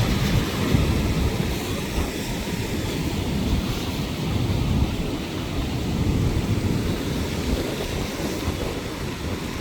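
Sea waves rolling onto the shore where boats are moored, a steady loud broadband roar and wash with no pauses and no voices.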